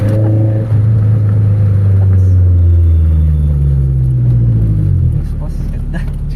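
Toyota Corolla GLI engine revving hard toward its high limit, a loud sustained roar that climbs and then falls back over about five seconds, with a steady idle rumble afterward.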